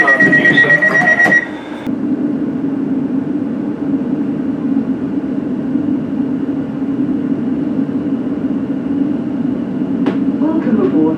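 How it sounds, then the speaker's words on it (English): A London Northwestern Railway Class 730 electric train running toward London Euston, a steady loud rumble inside the carriage after a brief chime-like announcement tone at the start, with a sharp knock near the end. "Welcome aboard this London Northwestern Railway service for London Euston"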